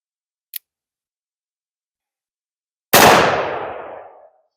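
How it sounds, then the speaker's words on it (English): A cap-and-ball revolver fired at a shooting range: a faint click, then after a pause a single loud, sharp shot with a ringing tail. Only one shot sounds, not six. "I'm going to fire 6 rounds from the dueling stance"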